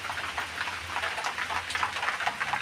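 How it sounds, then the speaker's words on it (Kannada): Heavy rain falls steadily outside, a dense, even hiss of drops heard from indoors, continuous and moderately loud with no voices. "ಹೊರಗಡೆ ತುಂಬ ಮಳೆ ಬರ್ತಾ ಇದೆ."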